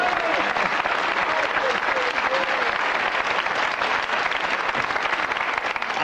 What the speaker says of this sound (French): On applaudit, là, on s'amuse